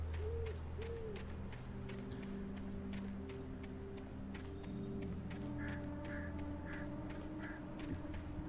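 Ambient bird calls inside the Alan Wake video game, a couple of soft hoots early on and repeated short chirping calls later, all faint and distant over a steady low background drone.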